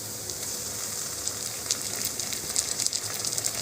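Onion, ginger and garlic paste hits hot oil for a restaurant-style chana masala, giving a steady, close sizzle with scattered crackles and pops that grow busier toward the end, and no talking.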